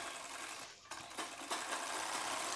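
A sewing machine stitches the back panel of a bra-cut blouse with a steady mechanical whir. The run halts briefly, then the stitching starts again and continues evenly.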